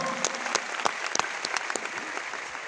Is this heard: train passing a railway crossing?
no